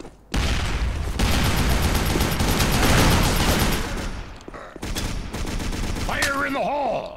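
Sustained bursts of AK rifle fire rattle loudly and close in the shooter game District 187, dense rapid shots lasting several seconds with brief gaps and a booming tail, followed by a warbling electronic tone.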